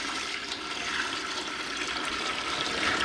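Water running into a pitcher while preparing to can blueberries: a steady, rushing pour with splashy hiss throughout, close by and with no voices.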